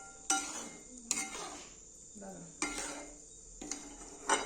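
A spoon stirs stuffed brinjal curry with coriander in a pan, giving several distinct scraping clatters of metal on the pan spaced about a second apart, close and fairly quiet against a faint background hiss.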